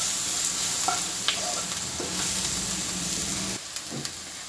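A spoon stirs a turmeric mixture in a hot pan for a curry, a steady sizzle running throughout with a few soft scraping clicks, close and alone.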